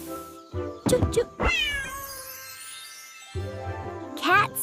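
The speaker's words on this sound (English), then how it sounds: "Cat says meow." A cat meows several times in drawn-out tonal calls, close and clear, with short gaps between.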